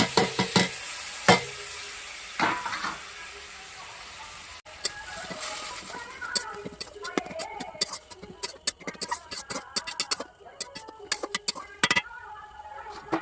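Pointed gourd paste fries and is stirred in a pan, giving dense crackling sizzles with repeated scraping strokes of a utensil, fairly close and steady throughout, with no talking.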